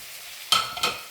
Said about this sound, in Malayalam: ഇതിനെ ഒന്ന് നല്ലോണം വറുത്തിട്ടെടുക്കാം.